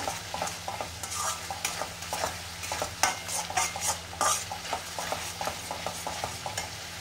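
Duck egg biryani with biryani spice mix being stirred and fried in a pan, with continuous sizzling broken by frequent scraping strokes of a spoon at an uneven rhythm, heard up close with no talking.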